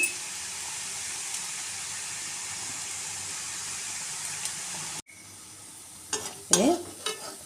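Karappusa, a thin gram flour snack, frying in hot oil: a steady hiss of bubbling oil for about five seconds, then quieter with a few brief louder clatters near the end.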